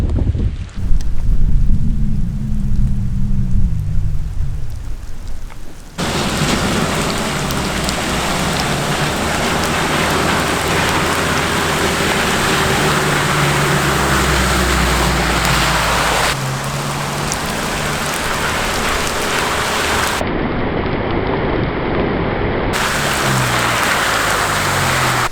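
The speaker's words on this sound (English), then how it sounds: "Little bits of hail everywhere." Hail and rain drum on a 4x4 vehicle out on a clifftop forest road near Bellingen and Coffs Harbour, a loud, steady, dense patter with wind buffeting that carries on without a break.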